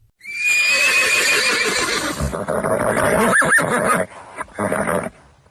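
A horse whinnies loudly with a rising, quavering call, followed by snorts and rustling movement close by.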